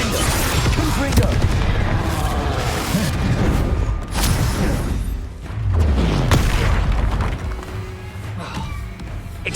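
In Hogwarts Legacy, spell blasts such as Confringo go off as heavy, repeated booms and crackling impacts that pack a dense, loud combat mix, with brief lulls between bursts.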